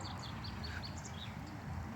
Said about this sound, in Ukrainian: Ой, пташечки як співають.